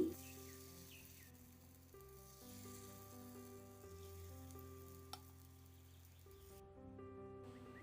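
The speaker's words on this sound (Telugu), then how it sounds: "గుంత పొంగనాల పెనంలోకి కొద్ది కొద్దిగా ఆయిల్ వేసుకోవాలి ఇలా పూర్తిగా ఆయిల్ వేసుకున్న తర్వాత ముందుగా కలిపెట్టుకున్న దోసపిండిని కొద్ది కొద్దిగా వేసుకోవాలి" Dosa batter frying in oil in a paniyaram pan gives a steady, close sizzle that runs through the whole stretch, with light scraping touches over a constant background hum.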